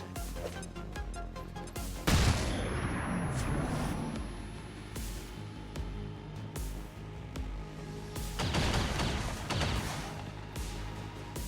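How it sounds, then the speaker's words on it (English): A flashbang grenade goes off in XCOM 2 with a sharp, loud crash and a ringing, hissing aftermath. Game music and ambient noise run under it, and a second burst of noise comes later. "I'm gonna flashbang you"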